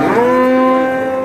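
A young heifer at a livestock market in Asaka, Andijan, Uzbekistan lets out one loud, close, drawn-out moo that slowly fades, with no talk over it.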